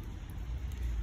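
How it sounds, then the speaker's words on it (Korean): Rain falling during a short outdoor walk on a rainy November day, a steady, soft hiss of drops with a low rumbling undertone, fairly faint and continuous, with no voices. "비가 오고 있어요."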